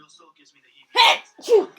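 Two quick sneezes in a row, close and loud, after a stretch of quiet background chatter from a show playing; people talk around them.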